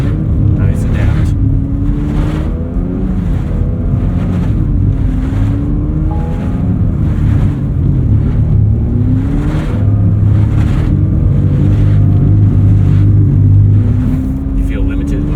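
A Porsche 911 GT3 engine revs and pulls hard on a driving course at the Porsche Experience Center Atlanta, rising and falling in repeated surges with wind and road roar, heard from inside the car while people talk throughout.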